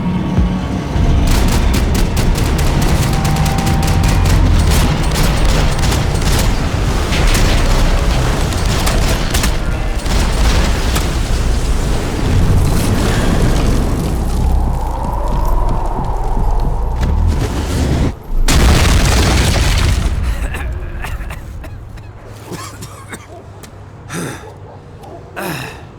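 Gunfire and explosions fill a Max Payne 3 game scene: loud, dense rapid shots and heavy booms run for about twenty seconds, then break into scattered sharp single shots that grow quieter near the end.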